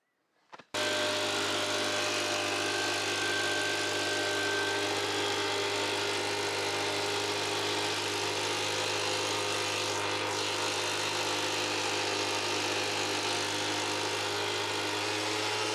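Small two-stroke engine on a backpack fungicide sprayer in a vineyard, started then running steadily and loudly for a long stretch with a constant droning hum, alone without voices.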